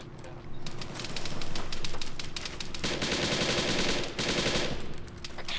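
Automatic gunfire in the video game Arma 3 during a police shootout, sustained rapid bursts at moderate level filling the whole stretch, with faint voices underneath.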